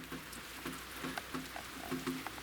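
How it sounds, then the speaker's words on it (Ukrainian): Rain falls steadily outdoors, a soft hiss with scattered drops pattering on surfaces nearby. "Все, ну, іде дощ, бачите, да?"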